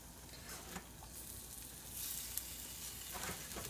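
Vegan fishcakes fry in a pan with a soft, continuous sizzle and crackle that swells slightly midway, heard alone without speech.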